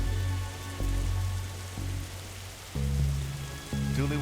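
Steady rain from The Darkside Detective video game, an even hiss running throughout under a looping low musical drone, with no talking.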